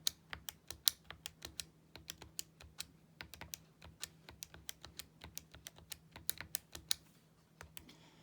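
Someone types data values on a computer keyboard, giving a quick, uneven run of sharp key clicks at close range over a faint steady hum, with no talking.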